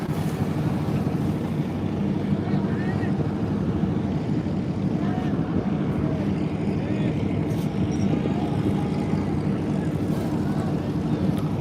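Engine boats travel along the Dakatia river, two lashed together with one apparently having engine trouble, their steady low motor drone continuous and fairly loud throughout with a little wind noise.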